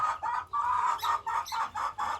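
A rooster and hens on a French poultry-breeding farm, a run of loud, close clucking calls in quick repeated bursts with short gaps between them.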